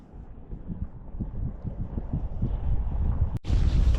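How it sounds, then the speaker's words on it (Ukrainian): Steady wind buffets the microphone with a low rumbling roar on an open expanse while ice fishing, growing stronger toward the end. "Трохи вітер дме."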